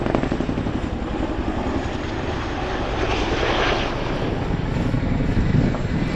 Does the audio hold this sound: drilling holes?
no